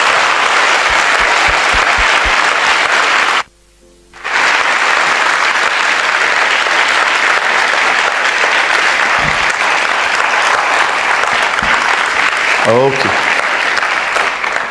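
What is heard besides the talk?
congregation's loud applause for Jesus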